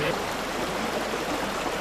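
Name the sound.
stream water flowing during a river crossing on foot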